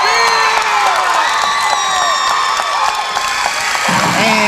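A packed gym crowd at a girls' high school basketball game, Estill vs Perry Central, cheers loudly and without a break, with shouts, whoops and whistles blending into one dense roar.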